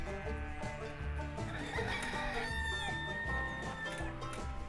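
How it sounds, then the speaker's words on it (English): Rooster and chickens on a farm, with layered clucking and a crowing call over dense barnyard background noise, steady and fairly close. "Look at the rooster."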